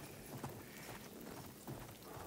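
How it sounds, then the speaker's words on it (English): Horse hooves clop in the Battlefield 1 open beta video game, a quiet, rhythmic trot heard faintly and alone without talk. "let's try the horse"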